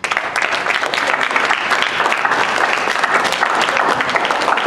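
Debate audience applauding, dense steady clapping from a crowd that runs loud and unbroken the whole time.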